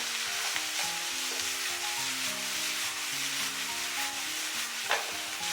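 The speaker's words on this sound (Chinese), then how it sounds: "然后给它翻炒均匀，炒至上色" Water bamboo stir-fried with dark and light soy sauce and oyster sauce in a hot wok, a steady close sizzle with scraping spatula strokes throughout and a brief clank near the end.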